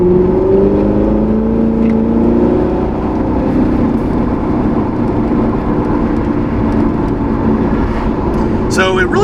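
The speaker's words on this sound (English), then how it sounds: "I'm trying to get it a little rowdy here so we can really compare it to the C8. I know that exhaust sounds good though" A C7 Corvette Z06 exhaust rumbles loud and close, held in a steady, heavy idle-to-rev drone throughout with little variation, and a brief sharper burst near the end.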